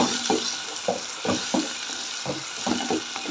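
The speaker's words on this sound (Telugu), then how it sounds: "పచ్చిమిర్చి కూడా సన్నగా కట్ చేసి పెట్టుకున్నా నేను అది కూడా ఇందులోకి వేసి వేపుకున్నాం" Finely chopped green chillies frying in a pan, sizzling steadily beneath repeated stirring scrapes that come in short irregular bursts, close and fairly loud.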